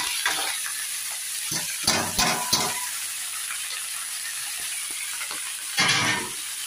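Shredded cabbage frying in a pan, a steady broadband sizzle with several louder bursts as it is stirred and tossed, close and continuous with no talk.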